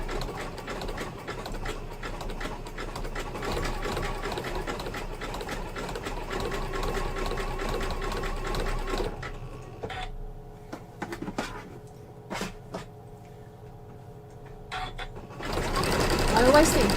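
A sewing machine runs steadily, stitching a grey and red embroidered rope bowl at a slow, even pace, with the motor hum continuing for several seconds before pausing and then resuming.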